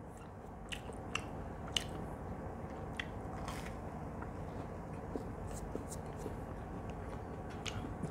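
Chewing on a crunchy fried Indian chop with nuts inside during a mukbang: steady close bites and crunches with soft mouth sounds, repeating through the stretch at a quiet level.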